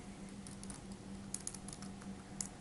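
Faint, quiet keystrokes on a computer keyboard as a command is typed, a few light clicks scattered over a low steady hum.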